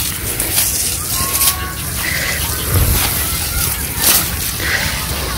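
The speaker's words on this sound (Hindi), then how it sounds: "ये पानी चला दिया, ये अब यहाँ पे लगता रहे" Steady rushing and splashing water from a hose running while a chicken coop is cleaned fills the clip, loud and close, with faint voices underneath.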